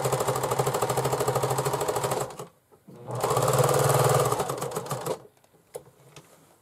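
Domestic sewing machine stitching a bag seam with a half-inch allowance, running in two loud bursts of rapid even needle hammering, reversing to backstitch at the start and end, separated by a short pause.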